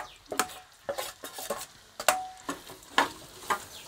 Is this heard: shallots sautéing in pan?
yes